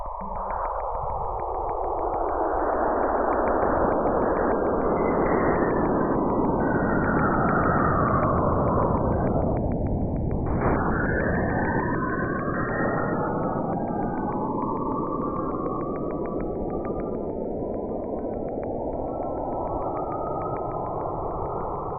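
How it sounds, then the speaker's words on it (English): Saturn's auroral radio emissions, converted to sound, form a dense wash of shrieking, sweeping whistles. Tones glide up and down, pile together into a swell near the middle, then fan out again, with steady loudness and no voices. "The same currents that paint Saturn's poles in shimmering auroras were translated into sound."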